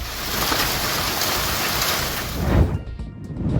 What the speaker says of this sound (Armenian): Ուժեղ կարկուտ է տեղացել Շիրակի մարզի գյուղ Նահապետավանում